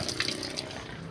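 Water poured over uncooked rice in a home kitchen to soak it, a steady continuous splashing pour close by with no talking.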